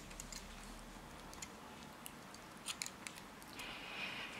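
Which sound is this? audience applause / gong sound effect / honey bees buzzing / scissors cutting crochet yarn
scissors cutting crochet yarn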